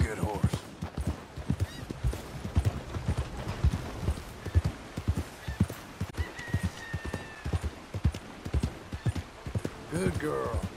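Red Dead Redemption 2 game audio of a mare's hooves clip-clopping in a steady, rapid rhythm close by, with a brief whinny near the end and someone speaking over the hoofbeats.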